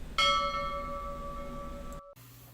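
A notification bell sound effect, a single bright bell strike that rings on with a long, clear sustain before cutting off abruptly, followed by a low hum.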